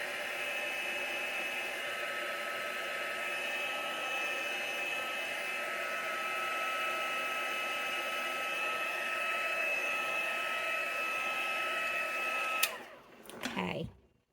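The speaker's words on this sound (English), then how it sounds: "you can just let this dry, or you can use a hair dryer," A hair dryer runs with a constant whirring blow and steady high whine while drying acrylic paint on a canvas, then clicks off abruptly near the end with brief handling noise.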